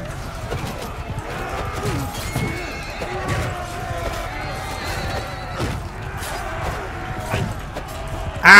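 Horse whinnies and steady clip-clop hoofbeats in the Mount & Blade 2: Bannerlord video game, mixed with battle clashes and a sudden loud crash at the end; no speech.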